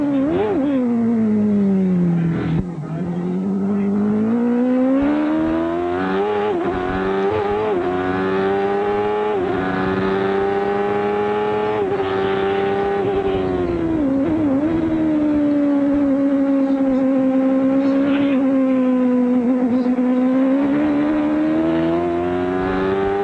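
A 1993 CART Indy car engine drones loud and close at a fairly even pitch at even throttle, rising and dipping slightly over bumps on the Cleveland Grand Prix circuit, with no talk.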